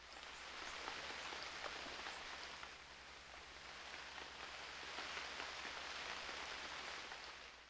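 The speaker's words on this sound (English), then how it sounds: "It's still raining." Steady rain from the Unreal World video game, a dense continuous hiss of falling drops that stays even and fairly soft throughout, with no talking.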